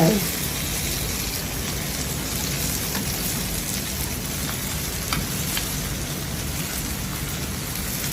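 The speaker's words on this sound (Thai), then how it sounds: "แล้วเราก็จะใส่โปรตีนเกษตรลงไป" Textured vegetable protein being stir-fried in a pan while cooking vegetarian food, giving a steady, loud sizzle and crackle that runs through the whole stretch with no talk.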